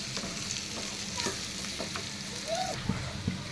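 Bitter gourd slices frying in a pan with salt and chilli powder, a soft, steady sizzle with occasional stirring scrapes and light clinks, fairly quiet and close.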